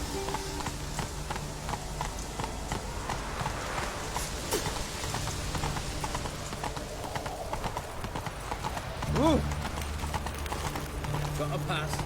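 Galloping horse hooves in a fantasy role-playing video game, a steady rhythmic clip-clop under game music and ambience, with a voice heard during the ride.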